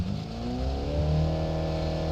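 A simulated car engine in the Automation racing game revs steadily under load as the car climbs uphill, a loud continuous drone whose pitch rises slowly and evenly throughout, with no voices.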